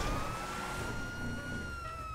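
A video game police siren wails steadily, its high tone holding with a slight rise and fall over a low rumbling engine, loud and close with no talking.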